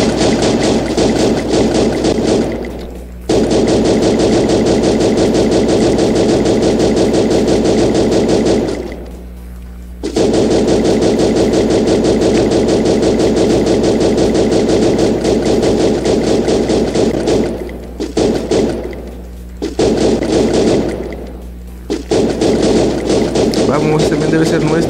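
Free Fire gameplay with sustained dense bursts of gunfire broken by short pauses, loud and continuous like automatic weapon fire under a steady game engine hum; occasional speech present.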